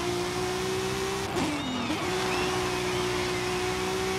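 A sports car engine in Forza Horizon 5 holds a steady idle drone, dips briefly as the revs change, then settles back to a constant hum, with no talking.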